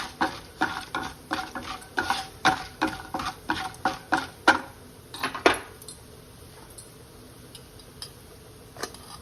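Chana dal and urad dal fry in a pan while a spoon stirs steadily, giving a regular run of sharp metallic scrapes and clinks about twice a second that stop midway, leaving a faint sizzle and one last clink.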